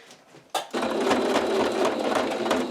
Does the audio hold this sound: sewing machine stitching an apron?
yes